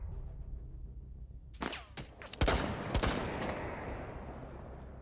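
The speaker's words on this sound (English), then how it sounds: "I'm getting shot." Gunfire in a ranked tactical shooter match, a quick cluster of sharp, loud shots after a quiet stretch, followed by lingering echoing tails.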